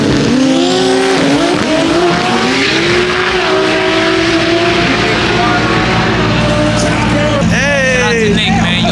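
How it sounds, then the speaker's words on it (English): Fully built Nissan S15 drag car revving hard at a drag racing event, its loud engine roaring continuously with rising and falling pitch and tire squeal, amid crowd chatter and voices nearby. "I want to see this thing do a burnout."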